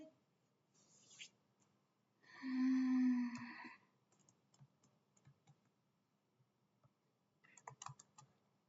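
Light, faint clicking of keys on a computer keyboard, scattered taps with short pauses and a brief louder burst partway through, in a quiet room.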